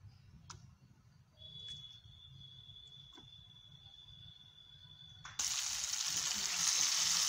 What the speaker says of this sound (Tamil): ரெண்டு பக்கமும் மீனை நல்லா பரட்டி எடுத்துருவோம், நல்லா வறுத்து எடுத்துடலாம்